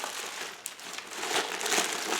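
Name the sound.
crinkling of a bag sewn from plastic bags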